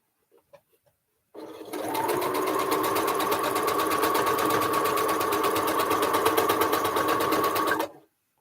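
A sewing machine runs a fast continuous stitch for about six seconds, a rapid, even, close-up whir that starts abruptly after a few faint clicks and stops sharply.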